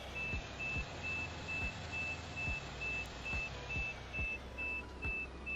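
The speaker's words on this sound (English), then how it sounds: "Sorry for that beep. That beeper being so loud" A reversing vehicle's backup alarm in Farming Simulator 22, during a sugar beet harvest, beeps loudly in a steady repeating rhythm of about two beeps per second over a low engine rumble.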